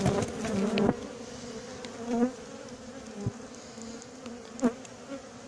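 A steady, close buzz of a mass of honeybees on their comb in a natural hive, with a few louder swells and brief knocks rising over the drone.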